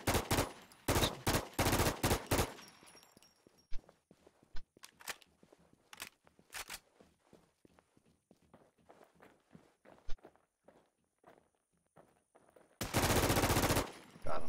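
Shotgun gunfire in a video game, with loud bursts of rapid blasts at the start and again near the end, separated by a stretch of quick footsteps and scattered single shots.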